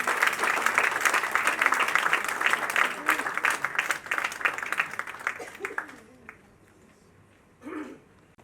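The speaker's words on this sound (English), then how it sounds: "Round of applause, ladies and gentlemen" Audience applause at a book unveiling event, dense sustained clapping from a crowd that thins out and fades after several seconds, with a brief final burst of claps near the end.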